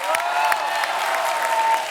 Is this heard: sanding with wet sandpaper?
no